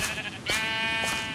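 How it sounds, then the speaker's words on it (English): A Minecraft sheep bleats twice in quick succession, a loud, close, wavering in-game cry standing alone without talk. "That is a sheep, not a pig."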